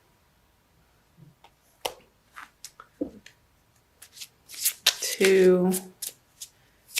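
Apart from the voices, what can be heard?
shuffling a crystal oracle card deck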